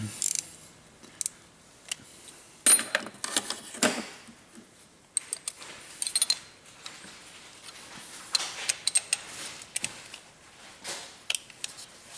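Socket wrench ratcheting on the fuel pump of a John Deere 2355 tractor, irregular bursts of quick metallic clicking with short pauses between strokes, close and fairly loud.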